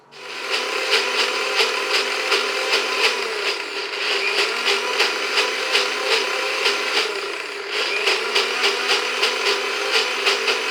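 A blender grinds raw papaya with garlic and green chili into a paste, a loud, continuous whirring close by with a steady pulsing rhythm and a brief dip in the middle, no voices.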